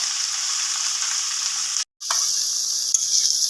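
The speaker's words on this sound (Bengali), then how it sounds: "পালং শাকটা এবার ভালোভাবে একটু মিক্স করে নেওয়া হচ্ছে মানে ভেজে নেওয়া হচ্ছে" Spinach frying in hot oil with five-spice seeds and a dried red chilli for a Bengali chochhori: a steady, close hiss and sizzle that drops out for a moment, then resumes with faint stirring clicks.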